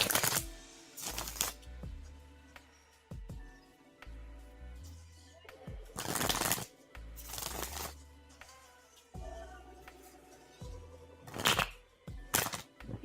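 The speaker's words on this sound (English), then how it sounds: "So I'm going to go ahead and shuffle for you now" Tarot cards shuffled by hand in a run of quick riffling bursts, each a loud papery flutter, separated by softer taps, slides and light handling noises, close up and with no voices.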